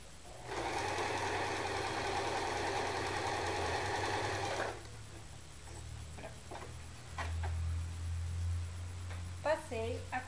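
A sewing machine stitches a water jug cover in one steady run of fast, close mechanical chatter lasting about four seconds, then stops, followed by quiet handling noises and speech.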